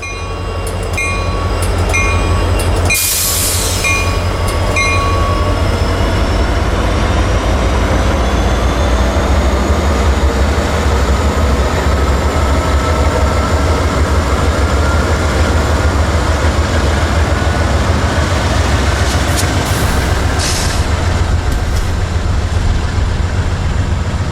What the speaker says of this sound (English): 452 is a daily mixed freight on its way from Miami to Waycross, Georgia